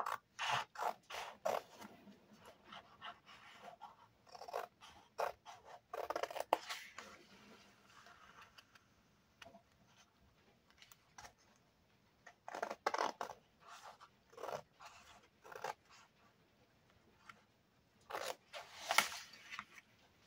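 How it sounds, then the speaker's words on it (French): Scissors snip through paper and photos while making a scrapbook souvenir album, close and crisp, coming in quick bursts of several cuts separated by short pauses. "Allez, je vais couper ça."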